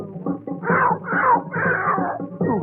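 A singer in a Marathi song imitates a cat with a run of drawn-out, wailing meow-like vocal cries over musical accompaniment. The voice is close, loud and steady throughout.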